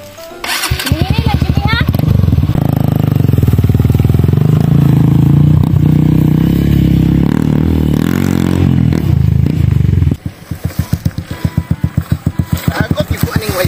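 A motorcycle engine starts and runs loudly and close for about ten seconds, then drops to a choppy, pulsing idle, with people talking over it.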